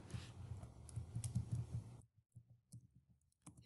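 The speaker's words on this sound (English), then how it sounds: "You're going to type in your barcode yet again." Computer keyboard typing as a library barcode number is entered, a fast run of soft key taps over background hiss, then a few sparser clicks in near silence, quiet and close.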